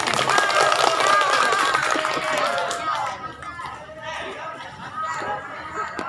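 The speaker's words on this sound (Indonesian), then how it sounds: "Tepuk tangan dulu, kasih semangat ya." Students clap for a classmate at a school class-meeting competition reciting the preamble of Indonesia's 1945 Constitution, a dense burst of clapping with crowd chatter that thins slightly toward the end.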